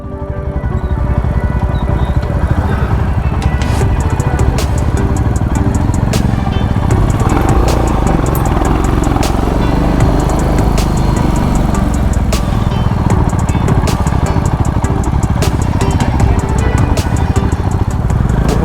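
A motorcycle engine drones loudly and steadily while riding uphill on a hill road toward Sittong. Rattling clatter sounds throughout the long, unbroken stretch.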